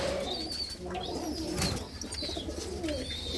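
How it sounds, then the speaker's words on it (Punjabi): Pigeons in a Punjabi breeding loft, including a pair of a white cock and a black hen, give repeated soft cooing calls with a few higher chirps, fairly near and continuous throughout. "ਇੱਕ ਜੋੜਾ ਆ ਚਿੱਟੀਆਂ ਦਾ ਕਬੂਤਰ ਆ ਤੇ ਕਾਲੀਆਂ ਦੀ ਕਬੂਤਰੀ ਆ"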